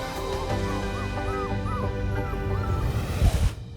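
Newborn puppies from one litter whimper and yip in a steady, close, high-pitched chorus of overlapping cries, with a few louder yelps near the end.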